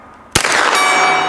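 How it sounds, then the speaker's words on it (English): A single gunshot cracks, then a round strikes a steel gong, which rings out with a bright, sustained metallic clang. "And one for the gong."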